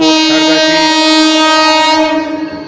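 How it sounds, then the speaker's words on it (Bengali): A train pulls into Berhampore Court station, its horn sounding a loud, sustained harmonic blast that holds steady for over two seconds before fading slightly, with no talk. "ট্রেন ঢুকছে"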